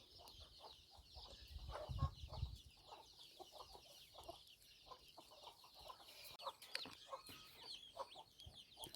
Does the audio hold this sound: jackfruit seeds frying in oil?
no